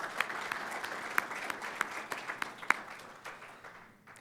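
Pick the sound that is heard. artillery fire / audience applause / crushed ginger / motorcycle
audience applause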